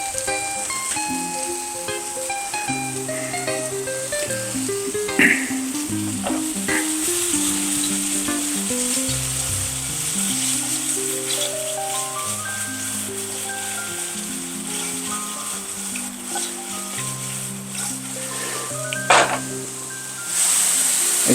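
Pearl onions sizzle and fry in a pan as they caramelize, giving a steady crackling hiss with occasional stirring scrapes and soft clinks, heard close at a moderate level.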